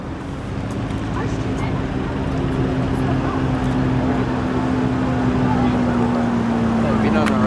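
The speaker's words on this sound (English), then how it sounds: "Oryx is going to give us a nice rolling takeoff." South African Air Force Atlas Oryx helicopter making a rolling takeoff at an airshow, a loud, steady turbine and rotor drone with a sustained tone that slowly shifts pitch.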